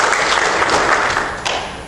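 Audience applause for panelist Clarence at a forum on Black male unemployment, a dense, loud wash of clapping that holds steady and tapers slightly at the end.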